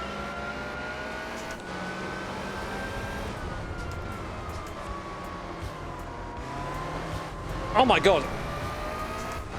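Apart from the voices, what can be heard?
car engine racing in Gran Turismo 4 video game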